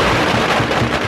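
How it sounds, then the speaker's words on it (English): Firecrackers and fireworks going off during Chinese New Year celebrations in Taipei, a dense, continuous crackle of loud bangs and pops with no pauses across the short stretch. "it was still Chinese New Year's there, so there was a bunch of firecrackers and fireworks"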